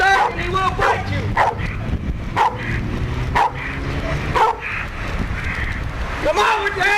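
A South Miami Police K-9 dog barks repeatedly and loudly up close in bursts, mixed with shouting officers giving commands during an arrest.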